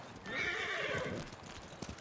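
A horse in the game Ghost of Tsushima whinnies loudly and close, a long neigh with a shaky trailing edge, followed by a few soft hoof thumps.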